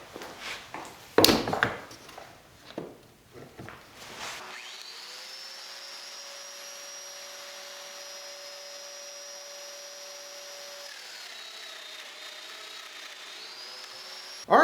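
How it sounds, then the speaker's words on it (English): A Festool Domino joiner plunges into chair rails ganged together to cut mortises, with a few sharp bumps and handling knocks first, then a steady high motor whine that holds and shifts pitch slightly, close and alone. "this gives me a nice stable base for the domino as I plunge down into each one"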